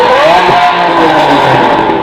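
A loud 2014 Aston Martin V12 Vanquish engine revs hard, its pitch sweeping up and down in a high-pitched scream, close and continuous.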